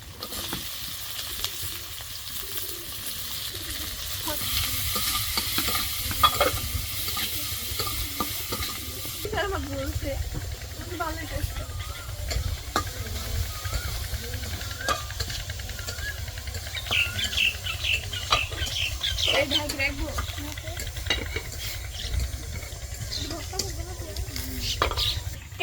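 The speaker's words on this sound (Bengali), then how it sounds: "রসুনগুলো একটু কড়া করে ভেজে নিব" Garlic frying until crisp in a pan for a village-style eggplant and rohu fish meal, with a steady sizzle and frequent scraping stir strokes throughout, close and moderately loud.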